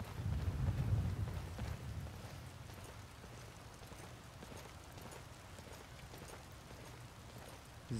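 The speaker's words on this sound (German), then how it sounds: "Hin und wieder regnet's auch mal." Steady rain falls with low rumbling thunder in Skyrim, heard from indoors; a deep roll of thunder swells at the start, then eases into a constant patter of rain.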